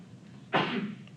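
A single short, sharp sneeze bursts out of a quiet classroom, loud and close, then fades quickly.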